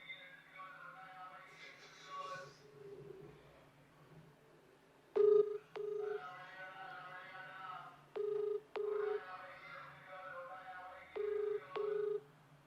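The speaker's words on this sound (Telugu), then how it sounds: "ఒకసారి అన్నకు కాల్ చేద్దాం" A phone ringback tone repeats in paired beeps at a steady rhythm over a quiet line, with faint background voices before the rings begin.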